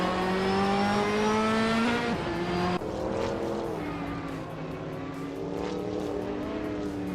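Racing video game engines roar steadily near and loud, with sustained whining tones that shift pitch as cars accelerate and change gear, including a driven 1999 Opel Vectra, and brief tire squeal.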